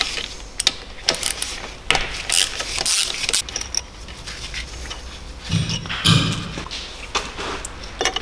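Bolts being undone with a ratchet during installation of a G-Power supercharger kit on a BMW E46 with the M54 engine: close, intermittent ratcheting clicks and metallic clatter in bursts with a few dull knocks, no talking.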